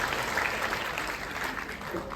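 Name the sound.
audience applause in a hall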